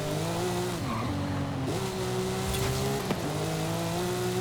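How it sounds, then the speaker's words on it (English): Porsche 911 engine droning steadily with a whiny gearbox tone layered on top, revving and dipping as gears change, loud and close from inside the car with a brief tire noise near the end. "Very whiny gearbox now as well."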